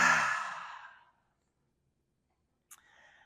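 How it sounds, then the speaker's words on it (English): A long, audible exhale through the mouth during a breathing exercise, loud and close, fading out over about a second, then silence and a faint rustle. "Hold at the top, exhale through your mouth."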